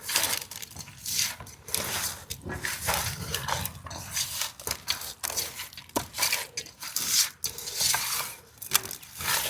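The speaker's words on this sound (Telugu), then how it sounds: "పసుపు, కారం, ఉప్పు చేప ముక్కలు పట్టేలాగా బాగా కలుపుతాను." Small pond fish pieces being mixed by hand with chili powder, turmeric and salt, giving a steady wet squelching and crinkling that runs continuously at close range with no talk.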